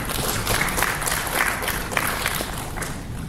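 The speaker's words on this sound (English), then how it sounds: "Let us clap for all of us." An audience at a conference applauds together, a dense, even wash of clapping that holds steady for a few seconds, with faint murmurs underneath.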